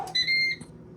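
A Ninja air fryer gives a short electronic beep as it is switched on, a single clear tone lasting under half a second, close and moderately loud, with a faint click after.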